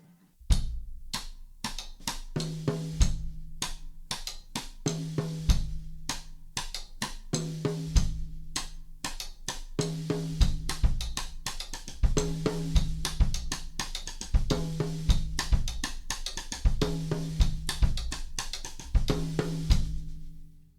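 A songo groove on a drum set: a steady, looping Afro-Cuban pattern of crisp hits and a recurring low bass-drum thump, repeating evenly about every two and a half seconds at moderate volume without any voices.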